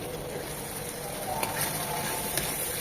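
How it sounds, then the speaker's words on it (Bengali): Spices sizzling and frying in a pan while being sautéed for a Bengali horn fish stew, a steady close crackle with a few stirring scrapes and clinks. "এখন মশলাগুলো ভালোভাবে কষিয়ে নেব"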